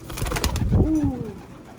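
A racing pigeon cock gives a single soft, low coo close by, briefly rising over faint background noise.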